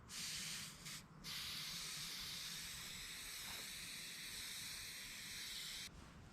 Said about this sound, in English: All right, we got the Flex Seal applied.